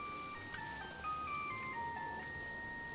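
Short in-game melody played to lure out Pokemon in the New Pokemon Snap swamp, a faint, simple chime-like tune of stepping notes over quiet ambient background, no voices.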